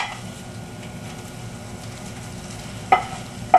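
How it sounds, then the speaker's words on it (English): An omelette fries in oil in a pan, giving a soft, steady sizzle with light scraping, and two sharper clinks near the end. "you can fry it on this side, and then you flip it again"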